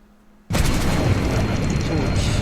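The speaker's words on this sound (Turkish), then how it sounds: "Uçağımız düştü." In the video game Stranded Deep, a sudden loud boom of a plane crash cuts in after a quiet moment, followed by a sustained heavy roaring crash noise that stays dense and loud.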